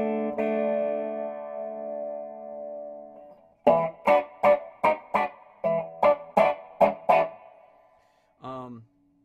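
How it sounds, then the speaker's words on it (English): An electric guitar through a TWA Triskelion resonant filter pedal: a long sustained chord, then a run of sharp rhythmic stabs, a short pause, and one final clipped note. "it boosts a narrow band of frequencies much as a wah would"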